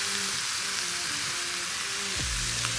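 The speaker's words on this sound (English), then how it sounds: "Bacon on the griddle is one of the best things." Bacon sizzles loudly on a flat top griddle, a dense, steady crackling hiss that fills the whole stretch, with a low hum running beneath it.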